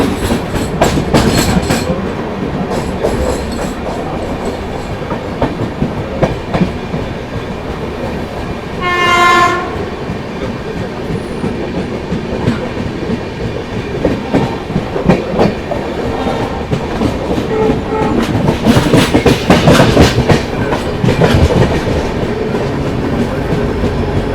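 The 12079 KSR Bengaluru–Hubballi Janshatabdi Express rumbles and clatters past at close range, and its horn sounds once in a clear, sustained blast midway through the steady roar of wheels and carriages.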